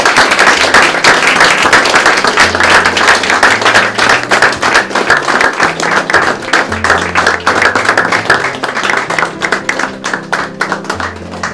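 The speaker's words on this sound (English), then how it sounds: "Please clap your hands for the new arrival of Mr." Wedding guests clap for the newly married couple as they enter, a loud, sustained burst of dense applause from a crowd with a low musical hum underneath and no voices.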